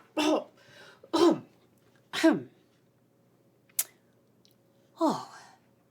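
A human voice mimics a creature coughing: four raspy, throaty coughs spaced about a second apart, close and isolated, with a short sharp click between.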